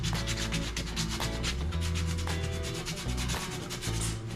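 Rough welds on a mini chopper frame are sanded smooth, a close, loud rasping rub repeated in quick back-and-forth strokes with a few short pauses.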